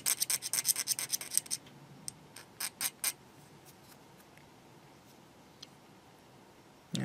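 A quick run of short scraping strokes as a blade shaves a plastic model seam, close and crisp, followed by a few separate scrapes and then near silence.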